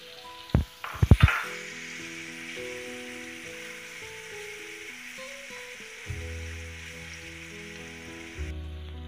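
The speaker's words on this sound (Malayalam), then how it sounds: "ഇതിലേക്ക് 1/2 കിലോ ചെമ്മീൻ, ഉപ്പും മുളകും മഞ്ഞളും ചേർത്ത് മാരിനേറ്റ് ചെയ്ത് വെച്ചത് ചേർത്ത് ഫ്രൈ ചെയ്തെടുക്കാം" Marinated prawns, half a kilo seasoned with salt, chilli and turmeric, frying in a pan: a few sharp clatters as they drop in, then a steady close sizzle with faint scraping taps later on.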